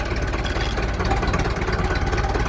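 A 265 S tractor with a creeper gear drives slowly in creeper mode, its engine a steady close low rumble running alone without pause.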